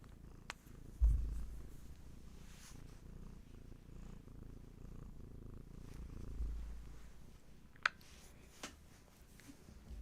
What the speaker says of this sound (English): Let Hattie's purrs call you back.